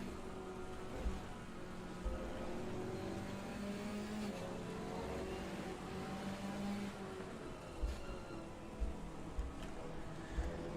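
McLaren race car in Assetto Corsa Competizione at Spa holds a steady, continuous engine drone with shifting pitch through gear changes, loud and close throughout with a few brief bumps.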